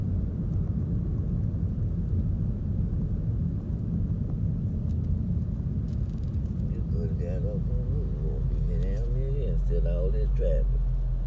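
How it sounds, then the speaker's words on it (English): Steady low road-traffic rumble heard from in and around a car stuck in congestion, constant throughout, with people talking over it toward the end. "All this traffic."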